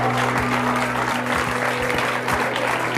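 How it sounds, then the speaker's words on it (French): Audience applause on a French television talk show greets Guy de Mazur, who has a Neapolitan Mastiff named Néron, as he is called up. It is dense, steady clapping from a studio crowd that fills the whole stretch at an even level. "Guy de Mazur, on peut l'applaudir avec..."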